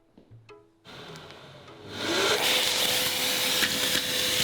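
A shop vacuum starts up indoors and ramps into a loud, steady broadband roar with a rising whine, holding constant to the end after a few brief knocks beforehand.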